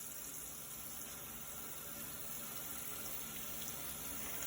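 Hands move under a running tap at a sink, a faint, steady hiss of flowing water with no voices.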